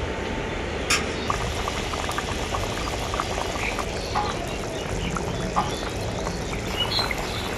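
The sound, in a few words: fish curry gravy with kasundi boiling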